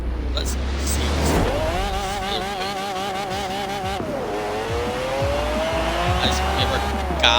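In Forza Horizon 4, a BMW 850CSI fitted with a McLaren F1 engine howls through rising and falling revs, with tire squeal and skidding and a voice talking over the steady engine note.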